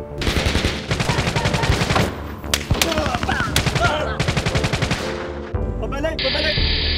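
Reenacted December shootout in Parañaque, bursts of rapid close automatic gunfire and single loud shots in dense volleys, ending with a tense music sting and some voices under the firing.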